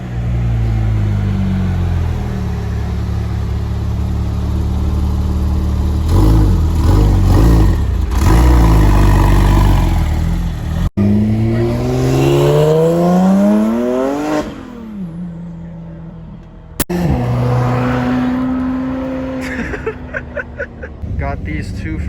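A car engine revs and roars up and down through several sweeping pulls at a car meet, loud and close, with people talking over it.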